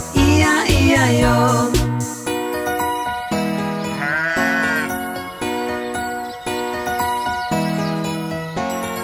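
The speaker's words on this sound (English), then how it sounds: "A Baa Baa here and a Baa Baa there, here a Baa, there a Baa, everywhere a Baa Baa." Sheep bleats from a farm animals song for children, sung baa-baa phrases over bright music with jingling tones, loud and rhythmic throughout.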